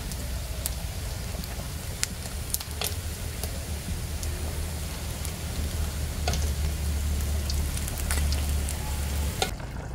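Dried fish frying in oil in a home kitchen, a steady dense sizzle with scattered sharp pops and crackles throughout, close and moderately loud, with no talking.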